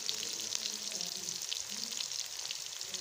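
Sliced onions fry in lightly heated oil, giving a soft, even sizzle and fine crackle that runs steadily throughout at moderate volume, with no voices.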